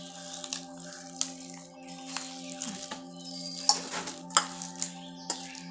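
A palm fruit (taal) seed is squeezed and mashed by hand in a little water while making pitha, giving faint, soft wet squelches and small clicks over a low steady hum.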